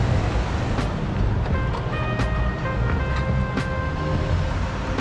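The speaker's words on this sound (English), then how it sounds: "there's a lot of noise, a lot of cars" Steady road traffic fills the scene with a constant low rumble of passing cars and faint wind noise, loud and continuous throughout.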